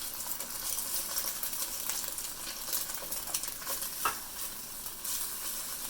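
Eggs frying in a very hot wok for Japanese-style fried rice give a steady, loud sizzle with light scraping and stirring throughout, and no voices.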